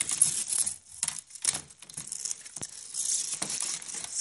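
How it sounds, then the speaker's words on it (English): An old broken window screen is pulled free of its frame in a run of irregular crinkling, tearing and scraping bursts, close and moderately loud with short pauses between. "the first thing you're going to want to do is obviously pull the old screen out"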